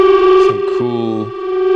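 An AE Modular synthesizer patch voices a dissonant, distorted guitar-like tone, a sustained buzzing drone with effects-laden chorus and brief shifting lower notes layered underneath, loud and alone.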